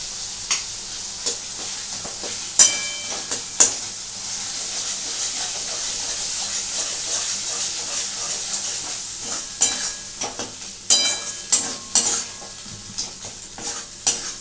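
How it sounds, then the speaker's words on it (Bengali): Spices for Bengali mutton keema sizzle and fry in oil in a pan, a continuous loud hiss broken by scraping stirs and clinks of the spatula, with no talking. "যখন মশলা কষছি তাকে দেখো এখান থেকে তেল ছেড়ে বেরিয়ে এসছে"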